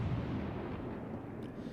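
Warship guns on a cruiser fire in the naval game World of Warships, a dense, continuous low rumble of cannon blasts and rolling booms with no distinct single shot standing out.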